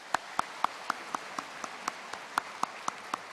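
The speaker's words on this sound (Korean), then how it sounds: "박수하겠습니다." Sparse, quiet clapping from a congregation during a Sunday church service, a slow run of about a dozen distinct claps at a steady rhythm, fairly distant and soft against a quiet room.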